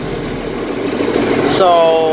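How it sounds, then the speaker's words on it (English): A farm tractor engine running steadily, a low rumbling drone throughout, loud and close, with someone speaking briefly near the end. "I'm going to take the tractor for a spin"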